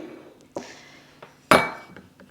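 Metal spoon scraping and clinking against the sides of a crock pot of chunky marinara sauce, a few sharp knocks at uneven intervals with a louder clank near the end.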